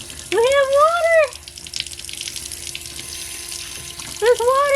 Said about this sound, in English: This is a really nice, low flow, good pressure faucet.